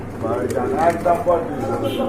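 Pigeons for sale at a bird market coo softly in low, rolling tones beneath nearby conversation.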